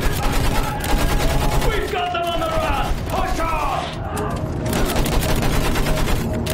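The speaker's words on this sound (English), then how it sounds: "Use that machine gun!" Rapid machine gun fire from a World War I battle in the Battlefield 1 single-player campaign, a dense continuous rattle of shots held at steady loudness, with shouting voices mixed into the din.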